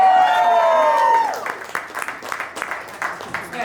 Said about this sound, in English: Can I get a round of applause for the ladies?